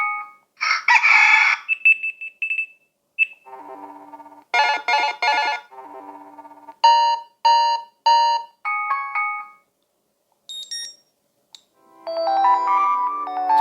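A card payment terminal cycles through alert tones, including a synthetic rooster crow near the start, then a string of varied electronic chimes and melodic beeps separated by brief silences, loud and close with no talk.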